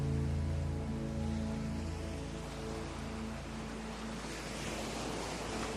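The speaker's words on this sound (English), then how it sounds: "The ocean continues its steady rhythm" Steady ocean surf washing ashore in a continuous broadband rush, with low tonal drones underneath that fade out midway, leaving an even roar of breaking waves throughout.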